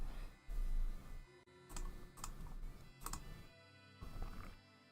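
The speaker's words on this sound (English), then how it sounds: "My keyboard's right next to my mic." Computer keyboard typing right beside the microphone: several separate bursts of clacking keystrokes with short gaps between them, close and fairly crisp, no voice over them.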